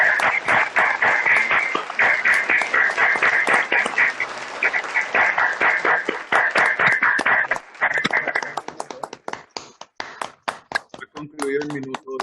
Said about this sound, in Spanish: Ha concluido el minuto de aplauso